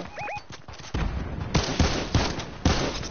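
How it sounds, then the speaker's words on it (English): Gunfire in a Wild West–themed video game rings out as a few loud, sharp shots and bursts spaced across a short stretch, with faint voices at the very start. "Yeah, they're shooting at you."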